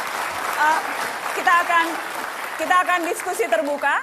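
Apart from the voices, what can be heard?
applause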